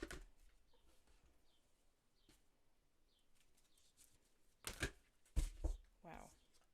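Tarot cards being shuffled by hand, two short crisp riffling bursts near the end after a long quiet stretch.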